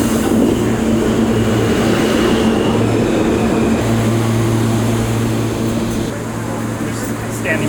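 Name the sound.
subway train in station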